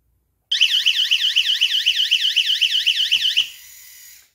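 A water leak sensor alarm, wired with a contact sensor and shutoff valve, sounds loud and close, a rapid warbling electronic tone pulsing up and down for about three seconds, then dropping to a faint steady tone.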